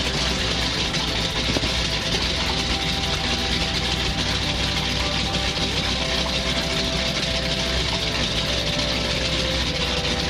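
A T-6 Texan aircraft engine idles while warming up, a steady, loud, continuous low drone with some vibration that runs unchanged throughout, with no voices.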